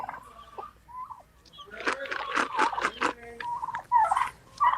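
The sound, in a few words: turkeys and chickens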